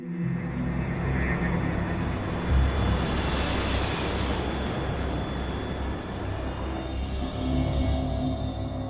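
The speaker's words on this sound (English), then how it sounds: "China Airlines Flight 140 is headed for Japan's Nagoya Airport." A China Airlines airliner flying toward Nagoya Airport in Japan on an evening approach, heard as a steady, loud engine roar that holds for the whole stretch with no voices.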